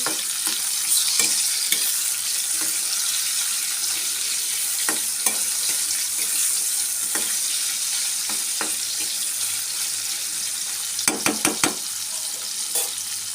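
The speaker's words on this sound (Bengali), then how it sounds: "বন্ধুরা পেঁয়াজটা আমার ভাজা হয়ে গেছে।" Onions sizzle steadily in a pan for the whole stretch, a close, loud hiss broken by occasional scraping taps of stirring, heaviest near the end, with no talking.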